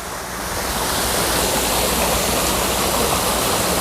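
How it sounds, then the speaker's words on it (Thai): Water sprays steadily from a solar-powered fountain pump, running off 24-volt solar panels, a loud continuous splashing hiss like a small waterfall, close by with no talk. "นี่ครับผมปั๊มน้ำพุนะครับ นี่คือปั๊มน้ำพุ ส่วนที่ยิงอยู่ก็เป็นตั้มซัมเมอร์ครับผม ใช้ โซลาเซลล์ทั้งหมดเลยครับผมนี่"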